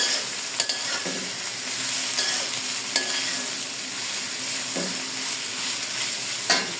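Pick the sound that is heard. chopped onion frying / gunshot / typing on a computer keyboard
chopped onion frying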